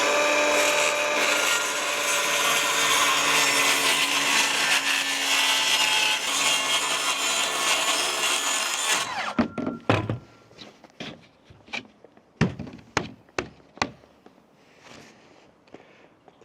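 A power saw whines loudly as it cuts a wood piece for a project, then cuts off, followed by a scatter of hollow wooden knocks and thunks as the pieces are handled and set down.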